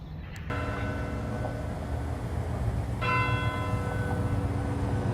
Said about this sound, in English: The bells are ringing here at the Sevier County Courthouse.